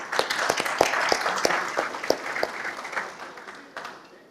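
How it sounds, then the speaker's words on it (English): Audience applause at a Unilever conference talk on logistics, a dense wash of many hands clapping with a few sharper nearby claps standing out, steady for several seconds and then thinning toward the end. "can we have a round of applause for all of us"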